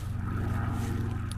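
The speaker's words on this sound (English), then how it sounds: "Sorry about the helicopter noise." A steady, low rotor drone throbs continuously, like a helicopter passing overhead, loud and unbroken with no voices.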